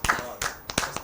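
A welcoming burst of applause from an audience at a Hindi poetry and shayari event, sharp claps arriving in uneven bursts over about a second, with voices mixed in.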